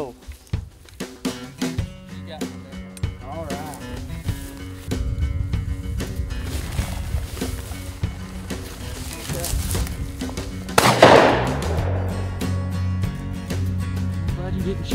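A single loud shotgun blast on a Kentucky quail hunt cracks out late in the clip and decays into the open air, with muffled activity and faint voices around it.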